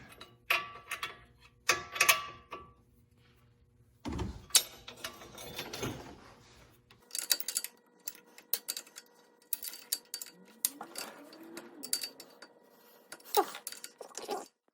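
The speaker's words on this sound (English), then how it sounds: "my little tool here, we're just gonna keep tightening it till it's tight." A hand ratchet tightens the axle shaft nut on a 2008–2020 Grand Caravan in irregular bursts of crisp clicking, with metallic clinks and quiet gaps between strokes.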